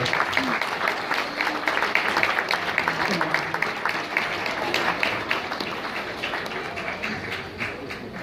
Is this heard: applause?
yes